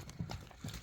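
Hooves of a young horse, a foal, made to run: a few quick clip-clop thuds close by, with no voices.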